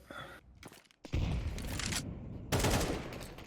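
Rapid automatic gunfire in the video game Counter-Strike 2, sharp bursts of rattling shots that break off briefly, then resume loud and close with a second heavy burst near the end.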